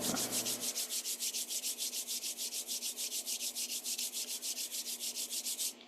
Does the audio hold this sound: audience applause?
no